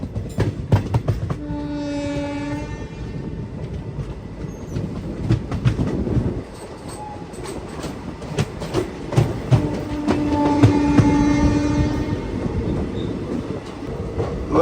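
Train at Jolarpettai Junction, a large Tamil Nadu railway junction, with a WAP-7 locomotive and ICF coaches nearby: a loud, steady rumble with clattering wheels and two long horn blasts, one early and one later.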